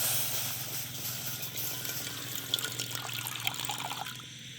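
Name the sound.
water being poured into a cooking pot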